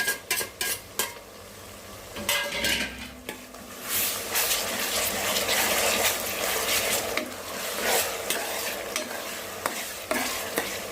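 Ginger-garlic paste fries in a pan for gongura prawns and is stirred steadily, with a continuous sizzle and repeated scraping and clinking utensil strokes, heard up close.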